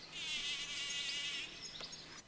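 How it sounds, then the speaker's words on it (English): A bumblebee on a rose gives a steady, close, high-pitched buzz for over a second, then shifts to a looser, fainter hum with short breaks. "And another buzzes on a rose."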